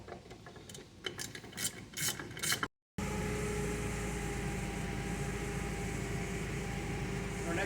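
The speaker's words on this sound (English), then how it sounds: "We'll just, take these 4 Allens out." Allen bolts are worked loose from the dry bearing of a dewatering press with short rasping, ratcheting tool sounds, followed after a brief gap by a steady loud machinery drone.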